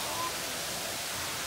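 Water pours down a waterfall in an animal enclosure at the Nashville Zoo, a steady, soft rushing hiss heard briefly and faintly from a distance.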